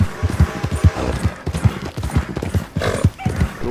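A horse gallops in Red Dead Online, its rapid, loud hoofbeats pounding in a steady driving rhythm, with a brief whinny-like call near the end.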